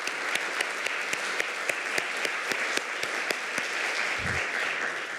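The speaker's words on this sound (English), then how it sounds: "I think we should all applaud Betty Saar" An audience applauds for the artist Betty Saar, a dense, even wash of many hands clapping at close to moderate distance, with sharp individual claps popping out and no voices over it.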